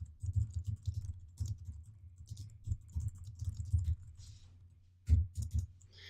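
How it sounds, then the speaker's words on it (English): Typing on a computer keyboard while writing a line of code, irregular bursts of soft close key taps with short pauses and a louder flurry near the end. "I'll just type in the opening line to one of my favorite songs."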